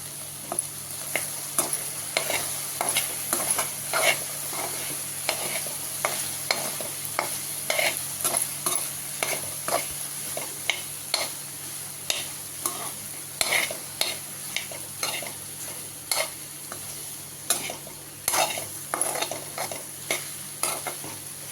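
Okra (ladies finger) with a pinch-broken dried red chilli stirring and frying in a pan over low heat, with a steady soft sizzle and repeated close scrapes of a spatula in an irregular rhythm throughout.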